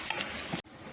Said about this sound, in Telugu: దీంట్లో మనము ఇలా మెంతమాకు ఫ్రై చేసుకోవాలండి